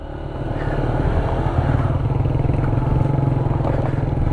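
A motorcycle rides over a rough, rocky road toward a beach, the engine's close, steady throbbing putter loud throughout with rattling and clatter from the bumpy surface.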